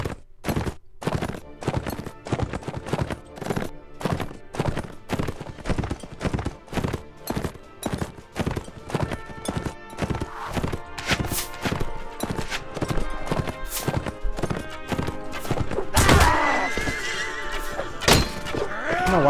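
A horse gallops in the Mount & Blade Warband video game, steady rapid clip-clop hoofbeats running throughout, with a neigh and a heavier clatter near the end.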